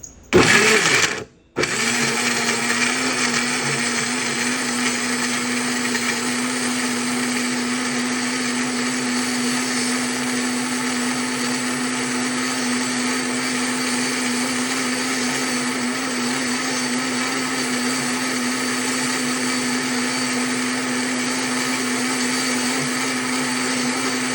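Electric blender whirring steadily to blend a bitter gourd (ampalaya) shake, a brief start-stop at the beginning, then a continuous loud motor hum with a strong low drone, running alone without talk.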